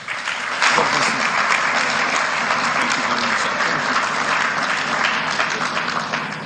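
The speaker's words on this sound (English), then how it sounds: "may we give him another round of applause" An audience applauds the Nigerian Minister of Power at a Light Up South East Initiative event, with sustained, dense clapping that holds steady and loud for several seconds.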